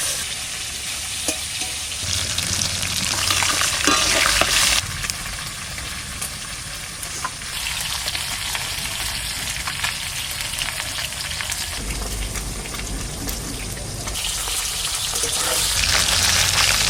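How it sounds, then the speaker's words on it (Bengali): Fish pieces sizzle and spit as they fry in hot oil in a pan, with scraping stir strokes and bursts of louder crackling, steady and close throughout with no talk. "সব মাছ কটা দিয়ে দিচ্ছি, নাড়াচাড়া দিয়ে ভেজে দেবো ভালো করে"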